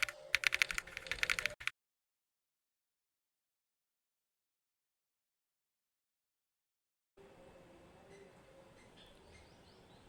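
A quick burst of close keystrokes on a computer keyboard as an email and password are entered into a login form, followed by a long silence and then faint steady room hiss.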